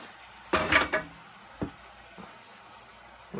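Cast iron pans, some with a little rust, being handled: one loud scraping clatter of heavy metal, then two short knocks, close and otherwise quiet with no talk.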